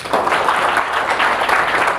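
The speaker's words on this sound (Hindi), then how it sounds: "बहुत सही, इनके लिए ताली हो जाएं" A classroom group claps together during a lesson on fractions, a short, dense burst of applause that stays steady and fairly loud throughout, with no talking over it.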